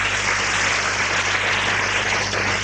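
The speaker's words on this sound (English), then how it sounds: "Everyone, can we give the Lord a clap offering" A church congregation gives a clap offering, a thick, continuous burst of many people clapping together at fairly loud, even volume without talk over it.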